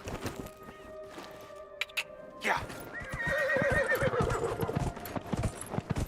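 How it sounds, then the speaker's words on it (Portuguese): A horse in the video game Dragon Age: Inquisition gives a loud whinny, then its hooves clip-clop in a fast gallop rhythm close by, with steady game ambience underneath. "Olha o cavalo."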